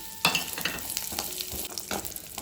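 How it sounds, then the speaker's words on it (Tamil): Sizzling hot fat frying an ingredient until golden for Varalakshmi puja prasadam, with a steady crackling hiss and occasional stirring clinks, close and without talk. "நல்லா பொன்னிறமாக பொரிஞ்சு வருது"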